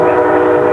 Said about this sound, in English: God, it's a giant train going by.